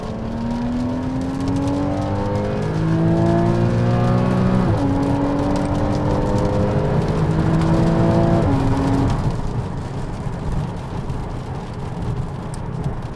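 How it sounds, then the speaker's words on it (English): Porsche 981 Boxster with the 2.7-litre flat-six revving hard, loud sweeping engine tones climbing through the revs with brief dips at gear changes, heard close and alone. "You've got to absolutely wring the neck of this car to get it to perform."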